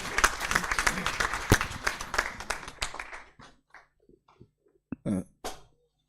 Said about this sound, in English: the round of applause was not befitting